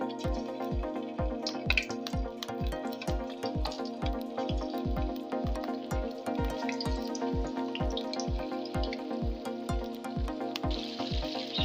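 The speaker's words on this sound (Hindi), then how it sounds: "तो ऑयल मैंने गर्म होने के लिए रख दिया है। मैं चिकन को इसमें फ्राई कर लूँगी।" Chicken pieces frying in hot oil in a pan for chow mein, a steady close crackle with quick regular popping bursts throughout, no talk.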